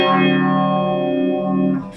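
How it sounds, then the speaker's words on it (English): Electric guitar on an Electra MPC model, played through a phase shifter effect: a loud sustained distorted chord with a slow swirling sweep, fading at the end, heard alone. "Phase shifter."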